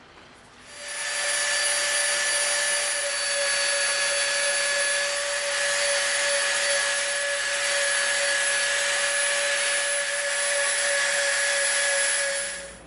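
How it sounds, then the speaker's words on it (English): A Dremel rotary tool rounds off the edges of EVA foam with a loud, high-pitched, steady whine that spins up, holds for about twelve seconds with slight wavering, then winds down, with no talking. "we are going to round this edge off with the Dremels."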